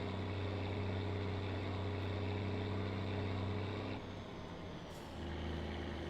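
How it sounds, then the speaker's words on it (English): A 405-horsepower diesel truck with its turbocharger spooling makes a loud, steady engine drone rich in harmonics. The drone dips briefly about two-thirds of the way through, then resumes under a faint high whine. "Listen to that turbocharger sing."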